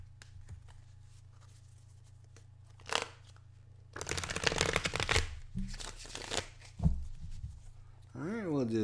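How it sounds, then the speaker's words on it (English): Playing cards for a tabletop baseball game are shuffled by hand at close range: a few scattered taps, then a couple of crisp riffling bursts, with a voice speaking near the end. "Shuffle up some of these cards."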